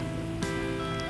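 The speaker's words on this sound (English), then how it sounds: "Rain is getting harder." Rain falls steadily in a Korean traditional village, a close, continuous patter over a constant tonal hum, with one sharper splash standing out briefly.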